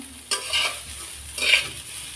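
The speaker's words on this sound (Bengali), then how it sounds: "এখন শাকটা আর দু এক মিনিট নাড়াচাড়া করে তারপর চুলা থেকে নামিয়ে নিব" Red amaranth greens are stir-fried in a pan, with two distinct scraping stirs over a faint sizzle, heard up close with no voices.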